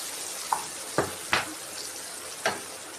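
Broad bean curry being stirred and fried in a pan: a few distinct spoon scrapes and knocks against the pan, roughly one every half second, over a soft, steady sizzling hiss.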